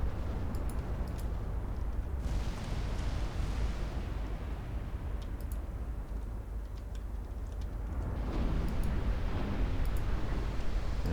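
Naval secondary guns fire and shells explode during a fleet battle in the Ultimate Admiral: Dreadnoughts naval warfare game, a dense continuous rumble of distant blasts with a few sharp cracks, louder toward the end, with no talk.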